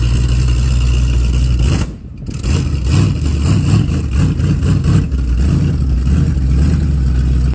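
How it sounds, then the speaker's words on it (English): A 1960 Rambler American gasser with a 383 stroker engine runs loud and close, a steady heavy rumble with one brief dip before it settles back into a continuous throaty idle. "this 60 Rambler American has been built in full gasser style and features a 383-stroker engine"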